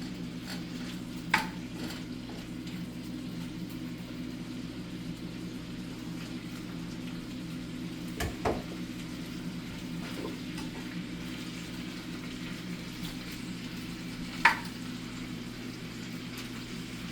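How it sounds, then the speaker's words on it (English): Riblettes sizzle softly and steadily in a pan over a low hum, with a few faint clinks scattered throughout. "So now we're starting to hear the sizzling here."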